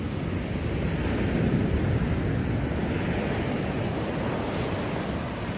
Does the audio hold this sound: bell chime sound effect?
no